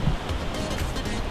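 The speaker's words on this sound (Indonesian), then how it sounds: "Dan kita mendekat dengan ombak" Ocean waves roll in at Sadranan beach in Gunung Kidul, a continuous broadband wash of surf heard up close, fairly loud and steady with no clear talking.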